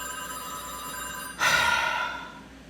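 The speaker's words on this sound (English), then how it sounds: "I can't take the phone ringing, okay?" A phone rings in a room: a steady electronic ringtone tone continues, then a sudden louder burst cuts in before fading, with no speech.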